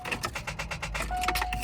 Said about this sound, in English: I'm trying to start the car, see what happens.